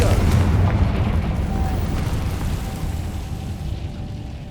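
A Confringo fire spell bursts in Hogwarts Legacy with a heavy booming explosion up front, then a long rumbling roar that slowly fades.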